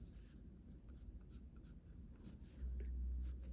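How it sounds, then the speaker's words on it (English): Quiet pen strokes scratch on paper while working a simultaneous-equations maths problem, a soft steady scribbling with faint scratches, close and alone. "Then I'm going to write both sides"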